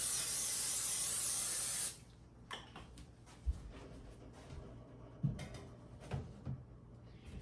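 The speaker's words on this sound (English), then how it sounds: "I'm gonna just spray my pans really good" A loud, steady hiss of aerosol cooking spray lasts about two seconds, then stops, followed by quiet clatters and light knocks of pans.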